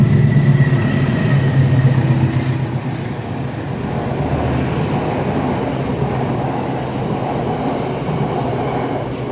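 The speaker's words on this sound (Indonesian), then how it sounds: "Ntar ada kereta." A train rolls past with a loud, steady rumble that peaks early and then settles into a continuous lower roar, with no voices over it.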